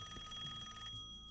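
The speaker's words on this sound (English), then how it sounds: "I'm going to answer that phone, because it's ringing very," A telephone ringing in the Serious Sam video game, a steady electronic ring with sustained tonal overtones that holds for about a second before cutting off, fairly quiet overall with a low hum beneath.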